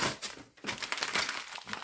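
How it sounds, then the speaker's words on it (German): Paper being crumpled and balled up by hand to start a fire in a fireplace, a close, busy crinkling and crackling that runs almost continuously with a short pause near the start. "Man nimmt Papier, knüllt das dann hier zusammen."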